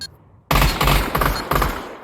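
Counter-Strike match gunfire on Dust 2: after a brief quiet moment, a loud close burst of automatic shots rings out, followed by another sharp volley.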